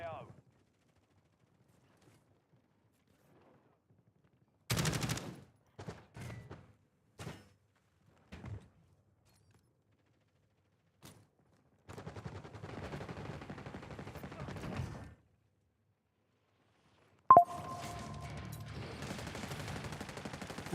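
Gunfire in the video game Call of Duty: Warzone, several sharp shots and short bursts separated by silence, followed by longer stretches of sustained rattling fire and a loud final blast.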